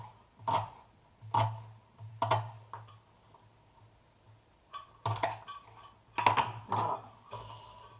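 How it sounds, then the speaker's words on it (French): Onion being coarsely chopped with a knife, a run of distinct knife thuds on the board in irregular bursts, close and clear, with a quiet gap between groups of cuts. "je coupe de l'oignon grossièrement"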